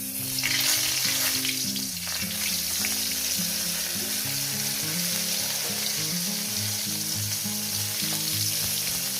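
Eggplant (brinjal) slices crackle and sizzle steadily in a little hot oil in a pan, a loud, continuous frying hiss with no talking.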